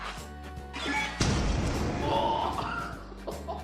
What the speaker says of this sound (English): that explosion was massive. That was a huge explosion.